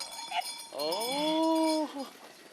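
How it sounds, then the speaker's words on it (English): A sheep herd in Transylvania. A sustained, wavering bleat holds for about a second near the middle, and shorter calls and clanking bells sit around it. "He runs into the sheep herd, wanting to show us the 2-day-old lamb"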